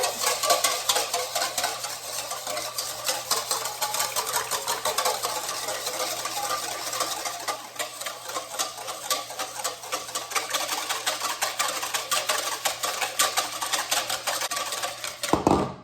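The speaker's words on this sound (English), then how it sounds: "Starting with 2 eggs, we just need your whisk here. And what you're going to do is just whisk it." Two eggs are whisked briskly in a bowl, a fast steady rhythm of light clicking and tapping strokes that continues without a break, close and moderately loud.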